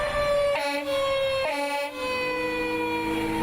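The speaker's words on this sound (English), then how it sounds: "Station 7's fire truck heads out on a mock call" A fire truck's siren wails loud and near as the truck heads out on a mock call, its tone sliding through repeated sweeps over an engine rumble.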